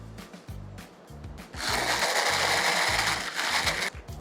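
Sun-dried tomato sauce with Parmesan in a blender, starting with short pulsed motor bursts, then a sustained loud whirring blend for a couple of seconds before it stops, no talking.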